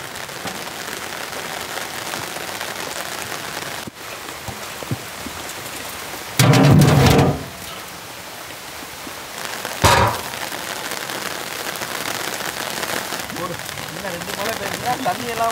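Steady rain falls throughout in an outdoor setting where roasted peanuts are being cooked, a continuous hiss with a few louder bursts and knocks around the middle, while people talk over it.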